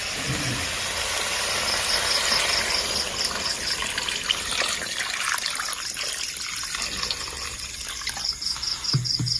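Water poured into a pan of fried fish curry, a steady gushing splash with sizzling that runs most of the way through, loud and continuous with no talk over it.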